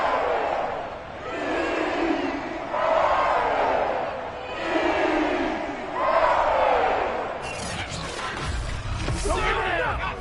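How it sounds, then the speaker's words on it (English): A home stadium crowd roars in waves in the Madden 22 football game between the Carolina Panthers and Buffalo Bills, loud and sustained. Sharper cheers and crowd noise build near the end. "that might be exactly what they needed to wake up this home crowd."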